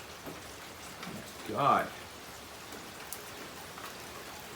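Rain falls outside on a dark morning, a soft, steady patter of drops heard from indoors, with a man briefly exclaiming partway through.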